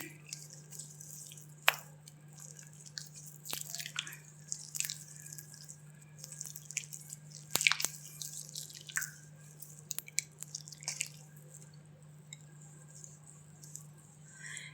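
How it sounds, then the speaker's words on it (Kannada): Someone washing their face with water, with scattered splashes, drips and wet hand rubs over a low steady hum, close and quiet, no talking. "ನೀಟಾಗಿ ಫೇಸ್ ವಾಶ್ ಮಾಡ್ಕೊತೀನಿ ನೋಡಿ."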